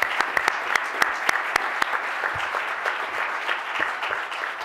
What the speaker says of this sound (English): please join me in a round of applause and thank them for setting this up